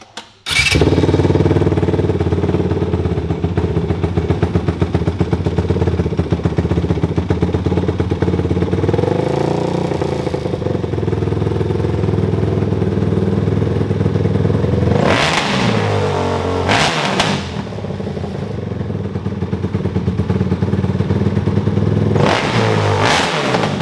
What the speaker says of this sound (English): That's a Derisi Racing built quad.